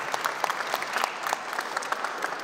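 An alumni event audience applauds a speaker, brisk steady clapping from a room full of people, close and even, with no talk over it.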